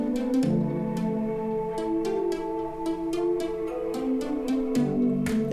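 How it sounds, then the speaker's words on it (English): Soft synth pads layered with plucked synth notes in an electronic music production, the plucks striking in a steady rhythmic pattern over sustained chords, played cleanly without talk. "When I play it with the plucks, it sounds like this."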